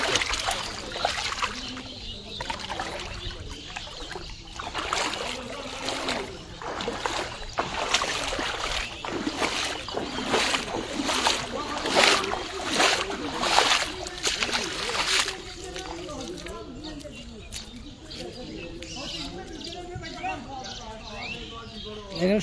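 Floodwater sloshes and splashes in rhythmic bursts as someone wades through it near flooded houses, a mosque and a shop, with voices talking over the watery strides and birds faintly in the background.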